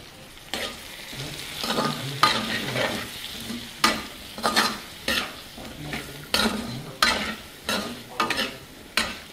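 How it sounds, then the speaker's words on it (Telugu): Small potatoes fry with masala in a pan over a steady sizzle, punctuated by regular scraping stirs of a utensil roughly every second, close and fairly loud, with no talking. "ఒకసారి మొత్తాన్ని కలుపుకుందాం. ముందుగా వేయించి పొడి చేసుకున్న మసాలాని ఇందులో వేసుకుందాం."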